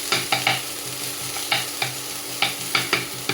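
Onions fry in oil for a Telugu chilli egg dish, a low steady sizzle broken by repeated sharp scraping stirs of a spoon against the pan, about nine strokes in irregular rhythm, close and clear.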